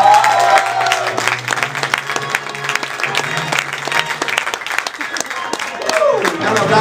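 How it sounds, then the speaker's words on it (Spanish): Audience applause and crowd noise greet voice actor Charles Martinet, the voice of Nintendo's Mario, at an event in Chile, a steady dense clapping that carries the whole stretch with scattered louder bursts near the end. "¡Un aplauso! ¡Ahí viene Mario!"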